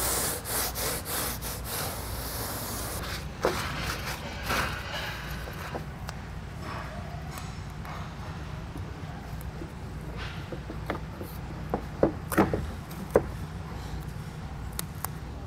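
Alcohol wipe rubbing across the bulkhead and bed rail ends of a 2019 Ram 1500 pickup bed, a steady close scrubbing and rubbing with brief knocks and squeaks, no talking.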